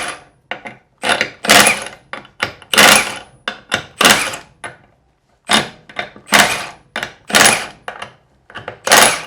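A Milwaukee M18 Fuel high torque impact wrench removes bolts in auto mode, firing repeated loud, close hammering bursts, each lasting about a second or less, separated by short pauses.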